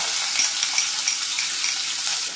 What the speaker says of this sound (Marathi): आता मी यात घालणार आहे कांदा